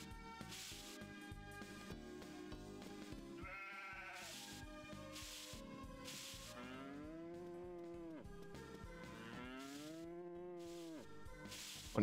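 Cows moo in the farming video game Harvest Moon: Magical Melody, several drawn-out bovine calls rising and falling over a steady game music backdrop with no talking.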